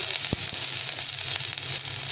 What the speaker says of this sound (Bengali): আদাটা দিয়ে একটু ভাজা ভাজা করে নিতে হবে